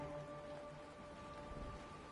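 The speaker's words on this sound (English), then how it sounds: "It is raining." Soft, steady rainfall in the video game Honkai: Star Rail, a faint continuous patter with a low tonal hum underneath and no voices.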